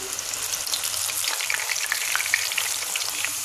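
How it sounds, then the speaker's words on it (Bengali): Chana dal deep-fries in very hot oil, giving a dense, even bubbling sizzle with fine crackles, close and continuous with no voices. "আমি আরেকবার ভেজে দেখিয়ে দিচ্ছি"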